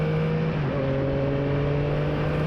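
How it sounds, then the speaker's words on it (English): A Yamaha MT09 motorcycle engine drones steadily under constant wind rush, its pitch stepping up once as the throttle opens early on, then holding an even tone while riding. "let's just give it a little bit of throttle to start with"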